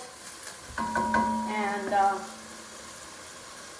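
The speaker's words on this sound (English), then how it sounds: "gonna saute until this is translucent" Chopped vegetables soften in a soup pot alongside meats, with a soft sizzle and light stirring under a brief spoken word in the middle.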